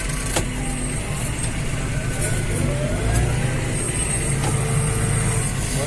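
A Claas Arion 650 tractor engine runs at a steady, close drone, a continuous rumble with no clear breaks.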